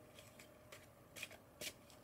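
Tarot cards being shuffled by hand, a few quick soft riffling bursts close by in a quiet room, with no talking.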